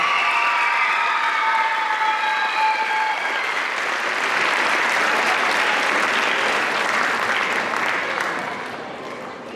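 Loud, sustained audience applause at a concert of the Fresno Unity Festival, with a few cheers at the start, steady for most of the span before tapering off near the end.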